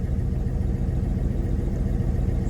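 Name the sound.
1981 Chevy C10 engine idling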